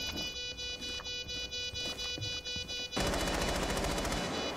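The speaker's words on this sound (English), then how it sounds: "I thought he was just shooting randomly." Rapid automatic gunfire in Rainbow Six Siege on the Kafe map, bursting loud and close after a quieter stretch of scattered shots and game ambience.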